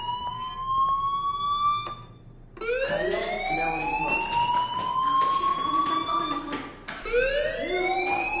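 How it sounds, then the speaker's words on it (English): A fire alarm wails with rising and falling electronic tones, loud and close, repeating across several cycles with a brief pause near two seconds. "do you hear that fire alarm?"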